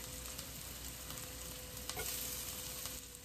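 Garlic frying in a pan for an eggplant stew, a close, constant sizzle with a faint stir near the middle and no talking.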